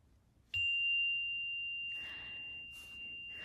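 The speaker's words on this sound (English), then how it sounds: "If you can hear the chime." A single electronic chime plays over a livestream, a sudden bright tone that rings and slowly fades over a few seconds, with faint rustling underneath and no talking.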